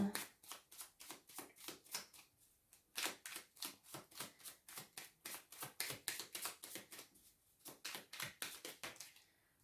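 Playing cards handled and shuffled up close, a long fast run of crisp riffling bursts in rhythmic waves with only brief pauses, loud and dry, and no talk over it.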